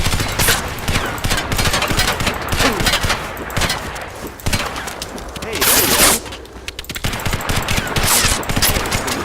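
Rapid bursts of gunfire fill a CryEngine 3 video game firefight, dense automatic shots rattling loudly and almost continuously with brief gaps.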